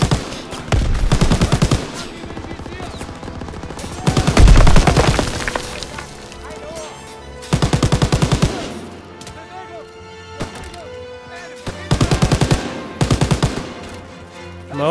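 Bursts of machine gun fire in a Call of Duty WW2 campaign battle, several loud rapid volleys separated by short pauses, with a booming blast early on amid the clatter.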